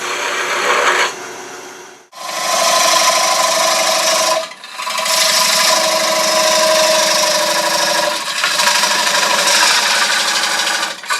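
Wood turning on a lathe with a cutting tool: a loud, continuous rasping, grinding cut that breaks off briefly twice before resuming, steady and close throughout.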